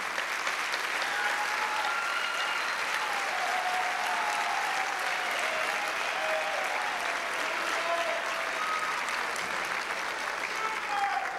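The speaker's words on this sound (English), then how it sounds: "I'd like to have a round of applause for him at this point." Sustained clapping from a school awards assembly audience, a thick continuous roar of many hands that holds steady for over ten seconds, with faint voices murmuring underneath.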